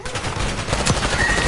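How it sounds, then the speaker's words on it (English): Gunfire in the Call of Duty Warzone video game, Black Ops 6 Resurgence mode: a dense, continuous burst of rapid shots and crackle lasting the whole moment, loud and busy with no talk over it. "Stop shooting at my partner"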